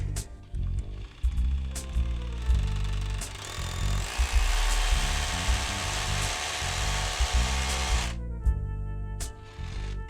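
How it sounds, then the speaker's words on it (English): A power drill drilling into a concrete wall whirs in uneven bursts, with a sustained grinding stretch in the middle before it winds down and stops. "I'm gonna go ahead and drill into this hole."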